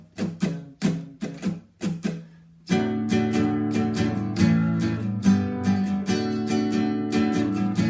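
Acoustic guitar strumming the rhythm for a song: a few separate muted strums, then a steady, full down-and-up strumming pattern of ringing chords, close and clear with no voice.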